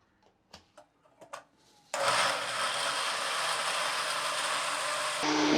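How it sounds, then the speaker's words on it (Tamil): A few light clicks and handling knocks come before a mixer grinder starts and runs with a loud, steady whirring roar as it blends mango, jackfruit and banana with milk for payasam. Its pitch rises slightly just before the end. "இப்போ நல்லா அரைச்சி எடுத்துக்கலாம்."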